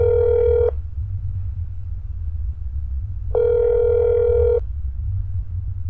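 A telephone ringback tone while placing a call in the video game That's Not My Neighbor: two clear electronic beeps, one short and one longer, separated by a pause over a low steady hum.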